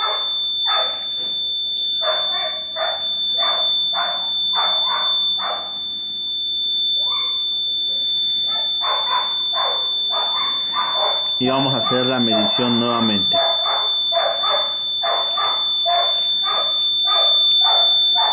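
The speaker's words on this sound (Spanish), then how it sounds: "Ya está el perro ladrando." A neighbour's dog barks in a short burst of repeated yaps partway through, under steady explanatory talk during a hands-on transistor electronics lesson, with a faint electronic whine running throughout.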